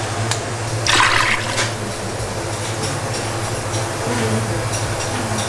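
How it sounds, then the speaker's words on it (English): Water is poured down an apartment drain, producing a gurgling, rushing flow over a low steady hum, with a brief louder splash early on and continuous draining after. "And then I'll just pour it in the drain, kind of clean it out."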